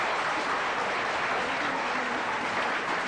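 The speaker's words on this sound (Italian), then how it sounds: "Facciamoci un grosso applauso in compagnia all'autore stesso di sta commedia, di sta poesia." An audience at a comedy performance breaks into sustained, even applause, a thick continuous roar of clapping heard alone without any talk.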